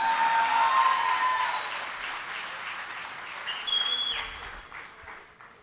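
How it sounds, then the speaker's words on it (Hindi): Audience applause at a Hindi poetry recital at a mushaira, a loud burst of clapping from a seated crowd that slowly thins and fades over several seconds, with no talk over it. "एक बार आप अपने लिए तालियां बजा लीजिए।"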